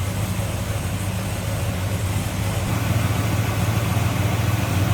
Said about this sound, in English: See how smooth that 454 runs.